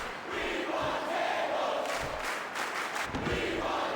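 Arena crowd from WWE SmackDown vs. Raw 2008 roars in a sustained wall of cheering, broad and steady at moderate volume with swelling shouts partway through.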